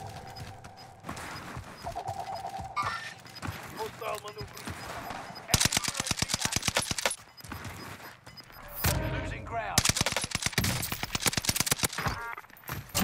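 Rapid bursts of OTS 9 submachine gun fire in the Warzone video game, crackling in several volleys over the second half amid game sounds and background voices.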